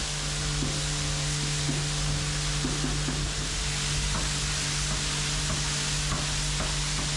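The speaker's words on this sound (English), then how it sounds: "I'm giving this side a thorough rinse to wash it all away" A hose sprays water steadily across the side of a dirty abandoned vintage motorhome, making a continuous close hiss and wash with faint droplets pattering under a low hum.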